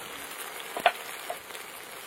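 Ground cumin and dried red chili paste hitting a pan of fried onion, ginger, garlic and tomato for a chicken curry gives a faint, steady frying hiss with one soft spatter, distant and quiet throughout.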